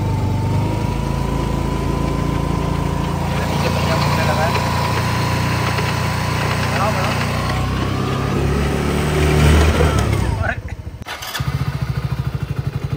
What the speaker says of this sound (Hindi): स्कूटी चालू हो गई